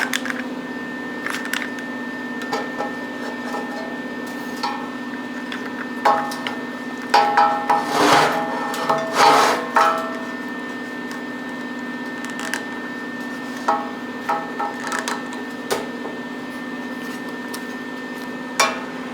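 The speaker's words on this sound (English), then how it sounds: "I'm gonna grab my clamp and put it on here just to tighten it up a little bit more." A metal clamp is fitted and tightened onto a steel welding workpiece, giving scattered clanks and ratcheting clicks, with a denser burst of handling noise midway over a constant low hum.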